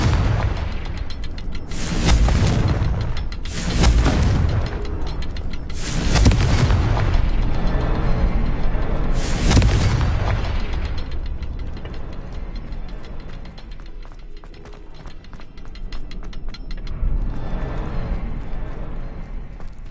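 Confringo fire spell explosions in Hogwarts Legacy, several heavy booming blasts in the first half with rumbling tails, followed by quieter mechanical clatter and ratcheting.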